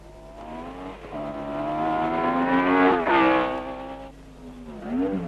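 Formula 1 race cars from the 1962 French Grand Prix roar past, their engines rising in pitch as they accelerate, loud and close, with a second car's note overlapping before it fades and another approaches at the end.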